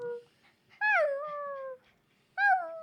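A drunk dog named Tiny on a radio show lets out two long, wavering whimpering howls, the first sustained nearly a second, the second rising after a pause, close and clear with no talk.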